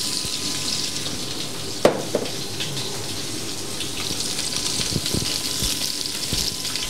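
Olive oil sizzles steadily in a pan while fregola with clams is being made, a continuous bright hiss with a sharp clatter near the start and a few soft knocks later, no voices.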